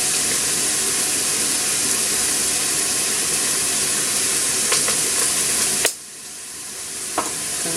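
Garlic pepper seasoning stirred into a sizzling pan for homemade lasagna, loud steady frying hiss with scraping stir strokes near the end, then a sudden drop to quieter sizzle and a final clink.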